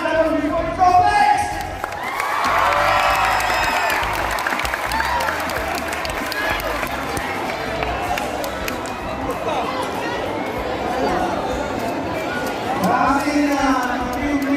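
A large crowd at a regional athletic association gathering applauds and cheers loudly, a dense, sustained roar of clapping with shouting voices mixed in, swelling again near the end.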